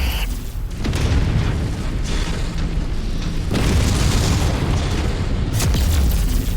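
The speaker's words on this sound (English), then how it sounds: "They blew the petrol tank!" A petrol tank blows up in a video game, a loud, dense explosion roar with sustained rumbling blasts and a second surge midway, filling the whole clip without voices.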